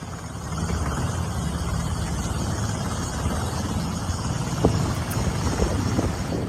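An Israeli military helicopter comes down onto a hospital helipad, its rotor and engine making a steady, moderately loud droning whir that barely changes, with a few faint knocks near the end.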